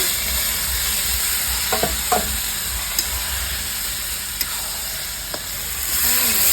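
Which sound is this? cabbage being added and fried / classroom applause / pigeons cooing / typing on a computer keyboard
cabbage being added and fried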